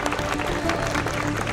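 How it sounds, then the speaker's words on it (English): A crowd at an LAPD/LAFD car show and safety fair applauds firefighters with steady, dense clapping throughout the short moment, and some speech mixes in. "How about a round of applause?"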